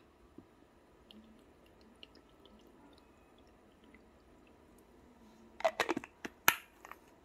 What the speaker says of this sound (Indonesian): Jadi pertama kita tuang dulu airnya.